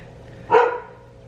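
One sharp bark from a neighbor's dog, fairly close and loud, breaking an otherwise quiet background.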